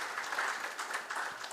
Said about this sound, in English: So we give with the hands of applause for him to be able to feel at home in the blue space